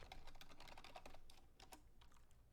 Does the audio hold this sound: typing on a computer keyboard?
yes